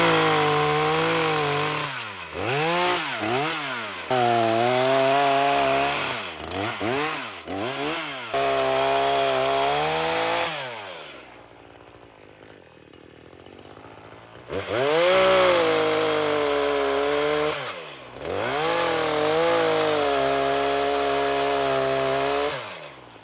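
A chainsaw revs repeatedly while limbing a felled tree, its engine climbing and falling as it cuts, loud and close, with one short pause near idle before revving hard again.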